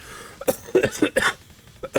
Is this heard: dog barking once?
no